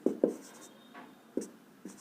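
A pen or chalk tapping and scratching on a board in a series of short, light strokes at an uneven pace, faint and close, with no talk.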